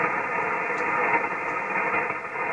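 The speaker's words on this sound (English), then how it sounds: "We got a lot of static noise." Ham radio static on the 80 meter band, heard through a Chameleon hybrid NVIS antenna running about 30 watts: a steady, even hiss with faint fluctuations.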